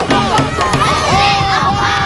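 A crowd at a political rally roars with loud cheering, whoops and yells, dense and continuous throughout.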